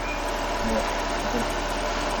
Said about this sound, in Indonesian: Oh, kendaraan mesin halus.